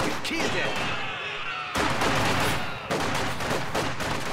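Machine gun fire and battle noise in the strategy game Company of Heroes 2, loud rapid bursts and booms in several surges, with a voice talking over part of it.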